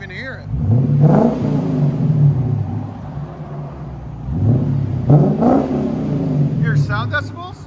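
Close, loud revving from a Lexus IS 500 5.0L V8 fitted with an aftermarket axle-back exhaust, two strong throttle blips climbing and falling over a rumbling idle, with voices talking in between.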